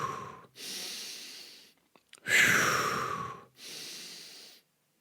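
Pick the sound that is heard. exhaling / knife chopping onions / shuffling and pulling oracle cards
exhaling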